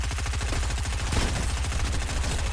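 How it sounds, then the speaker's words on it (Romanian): Rapid gunfire in Fortnite, a dense burst of repeated shots landing a headshot, loud and continuous with no talk over it. "mare headshot în cap i-am tras"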